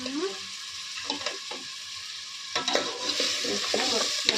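Drumstick curry is stirred in a pan over a soft background sizzle, with scraping and clinking spoon strokes in irregular bursts, close by, and a brief voice at the start.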